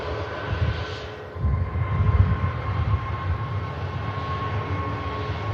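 Pegasus airliner at Manchester Airport with its jet engines spooling up, a steady broad roar with a faint whine, rising slightly and holding at moderate distance.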